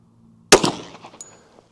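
A single sharp Glock pistol shot, the last round fired at an outdoor range. The loud crack rings and decays briefly, with no talking.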